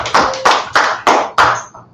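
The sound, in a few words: audience clapping hands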